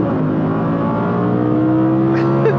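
A 2021 Audi R8 V10 in performance mode holds a steady, loud, droning engine note that climbs slightly in pitch toward the end, with a faint voice underneath.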